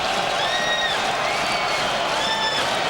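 A basketball arena crowd at a Euroleague game, Dynamo Moscow against Benetton Treviso, roars loudly and steadily throughout, with whistles and cheers rising above the dense, continuous noise.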